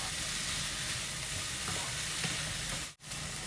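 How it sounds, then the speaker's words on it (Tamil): Tomatoes sautéing in a pan for small-onion sambar, giving a steady, close, dense sizzle that holds throughout, with a brief dip near the end and no talk. "அது ஒரு 2 நிமிஷம் நல்லா வதக்கி வச்சுருங்க."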